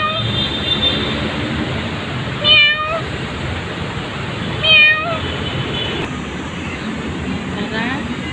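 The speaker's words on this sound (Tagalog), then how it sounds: "Meow! Meow!" Two short, tonal meows from cats rise out of a steady outdoor rumble of traffic and distant engines on a morning walk, the second call a couple of seconds after the first.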